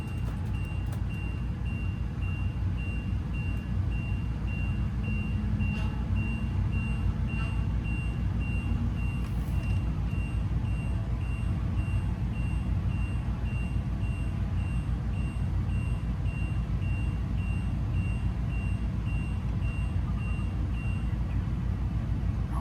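The hydraulic leveling jacks of a 2017 Aspect RV retract under a steady low mechanical drone, while a faint high warning tone repeats throughout, continuous and unbroken with no talk.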